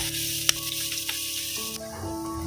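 Blended onion paste sizzles steadily in hot cooking oil over a wood-fired stove, a close, continuous crackling hiss with a sharp pop near the start and tonal background music underneath.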